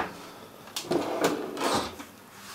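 A drawer in a shop fastener cabinet holding brads and staples slides and knocks several times in quick succession, close and fairly loud, with a few sharp wooden clunks.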